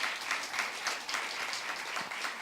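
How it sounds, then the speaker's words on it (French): Audience applause in a hall welcoming author Alberto Manguel to the stage, a steady rhythmic clapping at moderate distance, continuous for the whole stretch. "on va l'applaudir"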